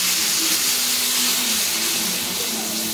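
Water is poured into a cooking pot for a Bengali shukto vegetable dish, a steady loud splashing rush with an underlying hum, continuous and close throughout.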